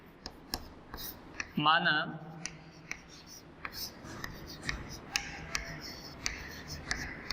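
Faint pen or chalk strokes tick and scratch in short irregular taps during a class 8 maths lesson on linear equations, with a quiet voice speaking briefly near the start.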